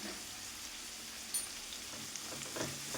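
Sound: onions sautéing in a pan

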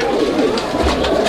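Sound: Beauty fancy pigeon cooing

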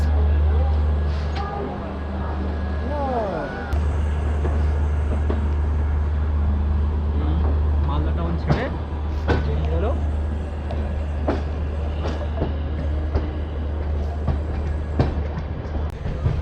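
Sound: Gour Express train departing Malda Town station

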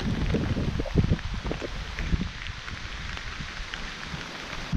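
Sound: rain falling outdoors

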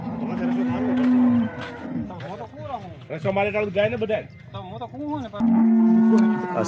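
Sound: cows mooing while being loaded

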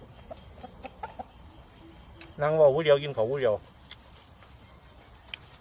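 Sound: chickens clucking

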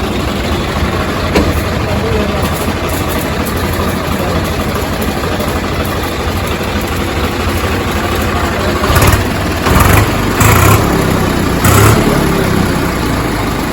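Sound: Swaraj 855 tractor engine idling

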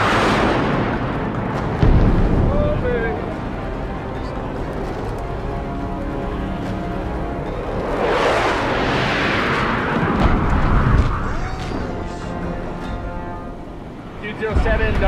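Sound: air strike bombs exploding

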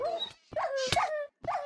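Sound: dog in a dungeon simulator video game

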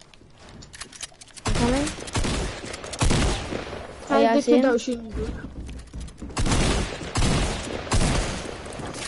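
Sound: sniper gunfire in a shooter video game

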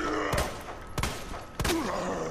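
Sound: gunshots in Resident Evil 2 Remake demo video game

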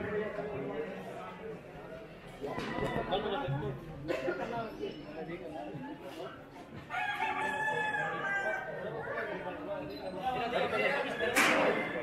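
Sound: roosters crowing

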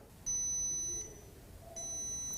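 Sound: drone detector beeping

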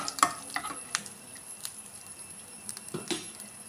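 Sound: cashew nuts being fried and stirred in a pan

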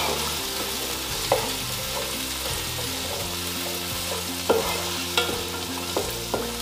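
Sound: green peas sautéing in ghee with dry fruits and green chilli

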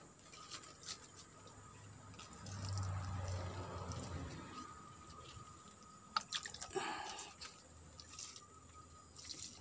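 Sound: water dripping from watered plants

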